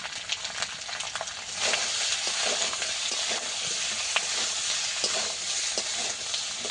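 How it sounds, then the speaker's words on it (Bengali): A fish curry sizzles steadily in a pan with turmeric and chilli powder as a spoon scrapes and stirs intermittently, fairly quiet and close with no talking. "সব কিছু ভালো করে একটু কষিয়ে নেবো।"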